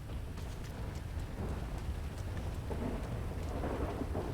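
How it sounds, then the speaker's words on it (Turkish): Heavy rain with rumbling thunder in the video game GTA 5, a dense continuous downpour hiss over low booming rolls, loud and steady throughout. "Yağmur da bir yağıyor ki vallaha."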